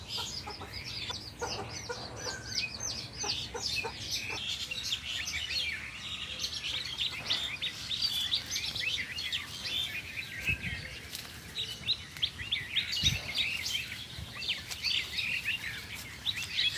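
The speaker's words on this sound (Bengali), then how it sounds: "সবগুলো দেশি গলা ছেলা মুরগি" Free-range desi naked-neck chickens in an open yard, with steady clucking and rooster calls mixed with many small bird chirps and tweets throughout, close and continuous, with no talking.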